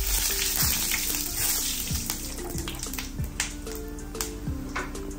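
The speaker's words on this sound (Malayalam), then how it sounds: "കുറച്ച് കടുകിട്ട് അത് പൊട്ടുമ്പോൾ ഒന്നോ രണ്ടോ വറ്റരി മുളക് ഇട്ട് കൊടുക്കുക" Mustard seeds and a couple of dried red chillies splutter in hot oil for a Kerala-style bottle gourd thoran, giving a steady loud sizzle with scattered sharp pops and crackles close by, over a faint low hum.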